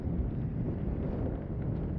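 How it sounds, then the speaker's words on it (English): Wind blowing across a microphone during a morning walk beside a lake, a steady, dense low rumble of gusts that lasts throughout with no talk. "It's so windy."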